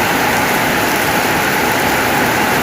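Heavy rain pours down in a dense, loud, unbroken hiss that stays even throughout and has no talk over it.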